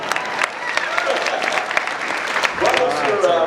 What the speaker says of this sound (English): you can applaud the Arlington